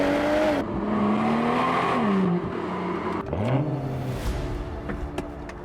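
BMW M240i G42 coupe accelerating hard, its engine note climbing through several gear changes with rising and dropping pitch, loud and close with tyre and wind noise and no talk.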